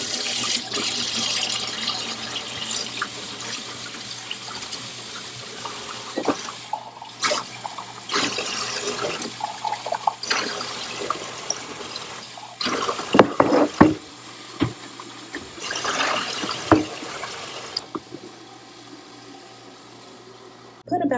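Water runs from a tap in a break room in bursts, splashing into a container amid clinks and handling noises, with a low steady hum underneath.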